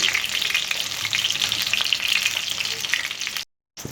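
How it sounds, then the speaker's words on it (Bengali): Pumpkin flower fritters deep-frying in hot oil make a bright, steady bubbling sizzle up close, continuous for several seconds before cutting off abruptly. "খুব ভালো করে ভেজে নিচ্ছি"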